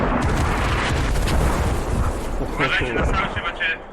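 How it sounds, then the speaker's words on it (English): Artillery barrage pounding down in the military shooter game Squad, a dense rumbling wall of booms and blasts filling the first half, thinning into scattered crackling impacts near the end. "Artie Barrage is being called on Central Airfield."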